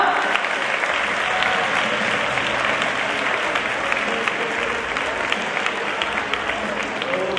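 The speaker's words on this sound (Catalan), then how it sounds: "Un bon aplaudiment, sisplau" A crowd at a sports awards night in Montbui gives a hearty round of applause, a dense, even wash of clapping that holds steady throughout, with some voices faintly mixed in.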